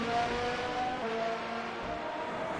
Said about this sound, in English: These cars are absolutely amazing to hear.